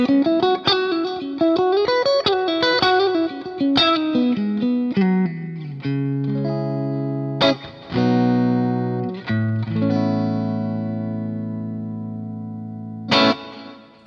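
Electric guitar through the clean channel of a Mesa Boogie MKII C+ amp with the bright switch on, playing a quick melodic run and then ringing sustained chords, loud and close with no talking.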